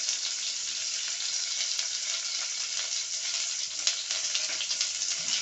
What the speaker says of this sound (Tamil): இதையெல்லாம் நல்லா வதக்கணுங்க